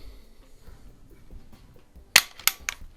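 A suppressed Remington Airmaster pump airgun fires: a sharp close crack followed by two lighter snaps, after a quiet stretch of faint handling noise.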